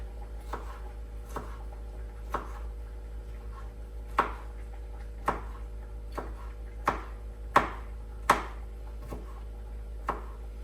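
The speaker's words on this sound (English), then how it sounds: "just cutting up the things for your omelette" Vegetables being chopped on a board for an omelette, about a dozen sharp knife strikes at an uneven, unhurried rhythm, fairly close, over a steady low hum, with no talking.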